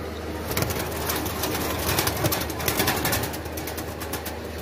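Pigeons cooing in a steady, dense chorus, with faint bird chatter over a low constant rumble throughout.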